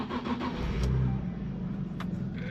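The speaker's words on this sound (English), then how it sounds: "Let's see how this thing drives." A car engine starts with a brief crank and catch, then idles and pulls away, heard close and fairly loud, with a couple of sharp clicks or knocks along the way.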